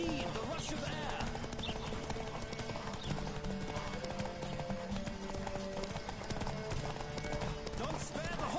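Steady clip-clop of galloping hooves in The Witcher 3: Wild Hunt runs throughout, loud and continuous, mixed with music and someone talking over it.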